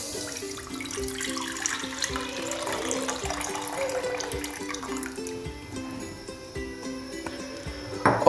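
About one and a half cups of water poured into a saucepan on a lit stove for black tea, a close, steady splashing pour that runs for several seconds before tapering off, with no talk.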